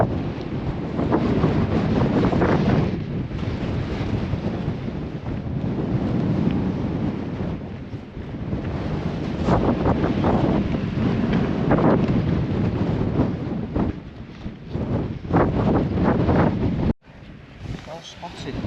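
Strong wind buffeting across wild, open hilltop countryside near Pendle Hill, a loud, roaring gusty rumble that blows continuously, close against the microphone with brief lulls and a sudden drop near the end.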